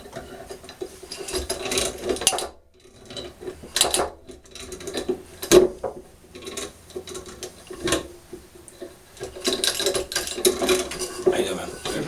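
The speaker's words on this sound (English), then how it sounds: "So now Robert's going to just keep cranking that away." Bearing puller cranked by hand to pull the bearing from a Hayward pool pump, giving repeated ratcheting clicks and grinding metal strokes in uneven bursts, near and fairly loud, with pauses between.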